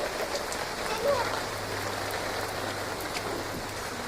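An afternoon rain shower patters steadily on surfaces outdoors, a constant even hiss of drops close by, with faint voices in the background.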